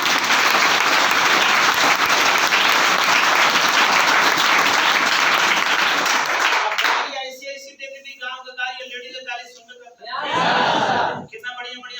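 Audience applause fills the room in a steady, loud wash of clapping that fades out, followed by a short spoken voice and a second brief burst of clapping.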